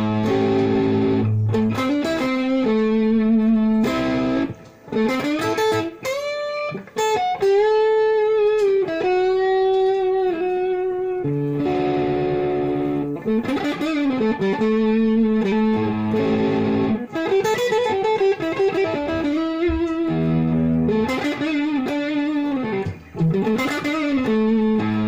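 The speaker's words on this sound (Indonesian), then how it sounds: "Overdrive kurang lebih seperti itu." A Fender electric guitar played through an overdrive pedal, with loud, sustained, gritty chords and bending single-note phrases running continuously with brief gaps, and no talk.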